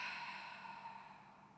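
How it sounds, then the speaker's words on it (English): One long, steady breath, a drawn-out airy rush through the nose or mouth during a calm yoga practice, close and soft, fading gently toward the end with no talk. "Deep inhalation through the nose, and exhale to the mouth once."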